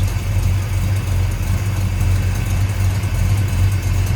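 A 1967 Plymouth GTX with a 440 V8 idles smoothly up close, a steady deep rumble holding an even, unbroken rhythm throughout with no talk over it.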